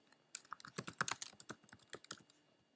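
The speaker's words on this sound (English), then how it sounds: "We'll type in his name and click Find Similar to see everything that he's connected to." Someone types on a computer keyboard in a short burst of quick, irregular key clicks, close and fairly quiet, with no talking.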